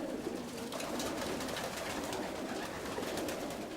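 Racing pigeons coo softly and repeatedly inside a loft, their low murmuring calls overlapping continuously against a steady rustling background.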